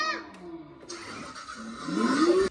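A kids' ride-on vehicle, a toy car, is switched on with a key, giving a short electronic startup chime followed by a rising motor whine that swells toward the end, with brief voice sounds nearby.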